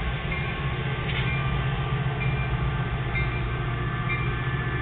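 An Amtrak double-decker passenger train passing at Oceanside makes a steady, loud rumble of wheels and cars rolling by, continuous throughout with a low heavy drone and no talk.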